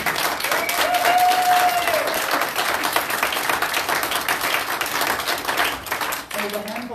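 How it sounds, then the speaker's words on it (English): Church congregation applauding graduates during a Sunday service, sustained steady clapping from a sizable crowd lasting throughout and tapering slightly at the end. "If you would please stand so we can applaud on you."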